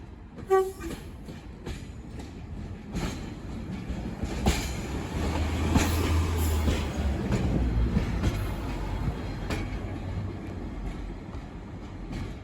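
A heritage train passes on the Midland Railway during a Clearwater weekend event, its rumble and wheel clatter building to a steady roar mid-clip and then easing off, with a few short horn toots near the start.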